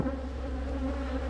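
Honeybees in a nucleus colony hive in Barbados hum in a dense, steady buzz, close by and continuous with no talking.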